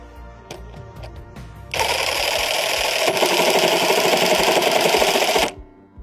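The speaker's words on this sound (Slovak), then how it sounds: "Ako prvé začínam rezať s nastavením počtov kmitov na 800, teda na prvej rýchlosti s 5 Ah batériou." A Parkside Performance PPSTKA 12 A1 12V cordless jigsaw with a 5 Ah battery, running at its lowest speed of 800 strokes per minute, cuts through 3 cm thick material with a loud, steady rasping buzz for about four seconds before it stops.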